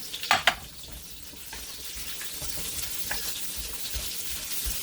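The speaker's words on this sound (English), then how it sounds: "Okay, so my garlic is brown. I'm gonna add my" Onions go into browned garlic in a pan for a shrimp and vegetable stir fry. A couple of sharp clanks come first, then a steady, moderate sizzle with occasional stirring.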